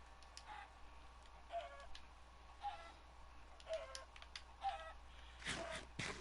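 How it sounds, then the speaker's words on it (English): Chickens cluck in a video game, several short repeated clucks at an even pace over a quiet background, with a louder burst of noise near the end. "Chicken noises."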